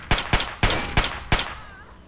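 Five evenly spaced gunshots from a weapon in Fallout 3, sharp loud bursts roughly a third of a second apart, each with a short ringing tail, with no voices.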